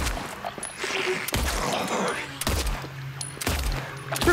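Gunshots ring out in the Silent Hill 2 Remake, four sharp loud reports spaced about a second apart, each with a short low tail, over faint background ambience.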